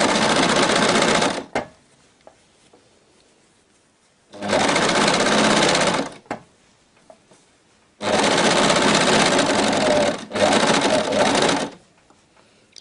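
An overlock sewing machine stitches the side seam of a baby bodysuit in three loud, close bursts of rapid whirring, each lasting a couple of seconds, separated by quiet pauses with faint handling noises.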